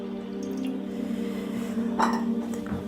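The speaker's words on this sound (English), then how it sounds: "So now we're going to add the milk, the fresh cream to it." Milk and fresh cream poured into a pan on low heat for panna cotta, a short soft liquid pour with a brief louder splash near the end, heard alone.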